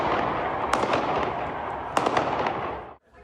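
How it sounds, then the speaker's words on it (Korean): Gunshots ring out at an anti-Trump rally in Salt Lake City: a few sharp cracks in two clusters over a dense crowd roar, then a sudden drop to near silence. "총성이 울려 퍼집니다."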